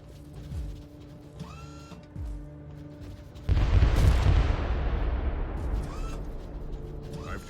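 Mortar fire in a sci-fi Diablo-style action game: a sudden loud blast with a long rumbling, hissing decay, set against earlier low mechanical hum and faint chirps.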